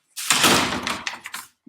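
A door on a 3D-printed model being opened by hand, a short scraping, rubbing sound with a few small clicks at the end, close and fairly loud.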